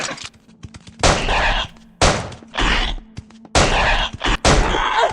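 Gunfire in the video game Death Park 2, with loud close shots coming in separate bursts, several booming blasts spaced about a second apart over a quiet game background.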